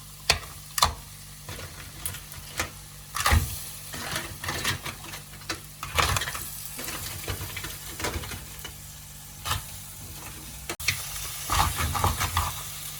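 Mud crabs are stirred through curry masala frying in a village-style pot: a constant close sizzle broken by repeated sharp scrapes and clatters of the stirring spoon, irregular and fairly busy.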